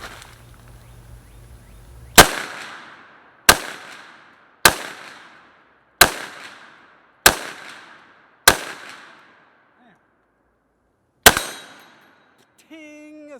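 Six loud, sharp gunshots from a J5 Tactical .50 Beowulf rifle upper, spaced about a second apart, each with a ringing decay, then a pause and one more shot; a brief faint voice follows.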